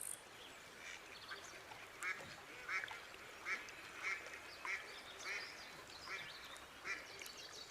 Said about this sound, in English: This female mallard observes the heron's technique with curiosity.